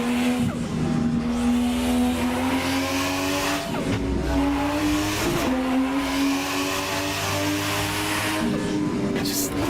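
A 1000HP car in the Assetto Corsa racing game roars loudly with a sustained engine drone, its pitch stepping through gear shifts, while tires squeal and skid. Faint talk sits underneath.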